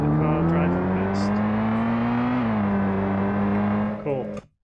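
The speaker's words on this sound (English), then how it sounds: "we'll see the car go past on game view" A car engine in a Unity-built GTA-style video game hums loudly and steadily, pitch rising slightly as it passes, then cutting off abruptly at the end.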